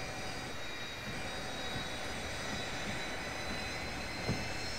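Aircraft engines run in a Roblox flight game, a steady broad drone with faint high whine tones, constant and moderately quiet throughout, with no talking.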